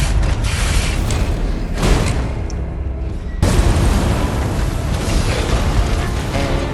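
Fuoco's overheat attack in Lies of P: loud mechanical booms and grinding creaks from the fiery boss, a heavy burst, a brief lull, then another surging roar that keeps rumbling to the end.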